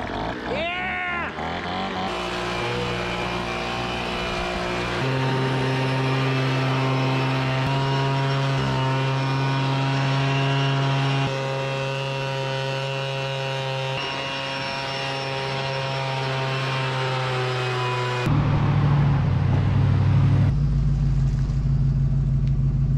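A small leaf blower engine with electric start runs steadily nearby, a loud droning hum with a strong low tone, then shifts to a rougher, heavier roar near the end.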